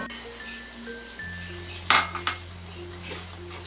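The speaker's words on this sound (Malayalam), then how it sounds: "വീണ്ടും ഒന്ന് ഇളക്കി കൊടുക്കാം." Grated carrot and milk being stirred in a pot for carrot halwa, a spoon clinking and scraping against the metal in a few sharp knocks over a low steady hum, with no talking.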